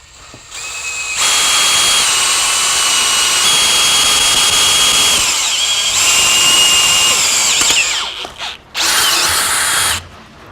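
A power drill bores out a rivet to leave an oversized hole, a loud sustained high whine of about seven seconds that dips once and then resumes in a short final burst, with no talk.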